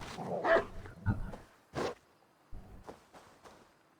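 A dog barking in Assassin's Creed Valhalla: several short, close barks and yips in quick bursts over about four seconds, separated by brief silences.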